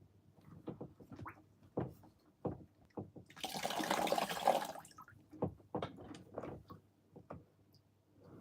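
A fish tank filter pushes water out in bursts, with brief splashy gushes and drips at irregular intervals and one longer steady rush of pouring water in the middle, close and fairly quiet.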